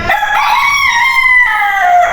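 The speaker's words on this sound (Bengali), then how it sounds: "নিচে হলো গিয়া ফার্মি মোরগের মুরগিগুলা" Farm chickens and roosters in a cage call close by, a loud rooster crow stretching over two seconds with hen clucks layered beneath it.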